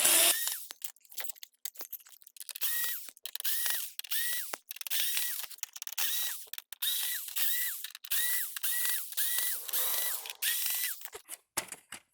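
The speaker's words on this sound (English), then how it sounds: "Just gonna unscrew all these screws and this thing should lift on out" Screws come out of a Samsung Flexwash washer with a powered driver, producing a quick series of short whirring, ratcheting bursts separated by brief pauses, close and fairly loud against a quiet background.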